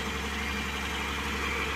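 An 800 cc Datsun Redi-GO engine idles steadily, a constant droning rumble with a buzzy mid-range hum, close and even throughout.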